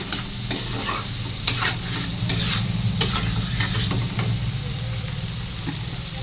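Spices and salt fry in a pan under a loud, close sizzle. A spoon or spatula stirs with irregular scraping knocks, then the stirring eases off toward the end.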